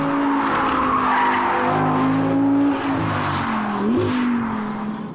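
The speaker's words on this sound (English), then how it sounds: "You can almost chuck it. And get some really nice drifts happening." A 2016 Audi R8 V10 drifting, its engine revving hard under a continuous rasp of skidding, squealing tires, loud and close throughout.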